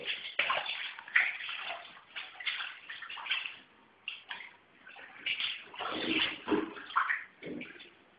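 Floodwater inside a house, about a metre deep outside, sloshing and splashing in uneven surges, close and fairly loud, with a thin, muffled tone and short lulls between the swashes.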